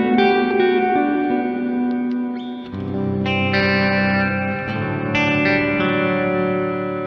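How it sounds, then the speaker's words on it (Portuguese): Electric guitar chords played through a Caline Ragnarok reverb and delay pedal ring out with a dense, lush wash of reverb swallowing the guitar tone, sustained and loud throughout with new strums layered on top. "o timbre da guitarra ficou lá longe e o reverb está tomando tudo."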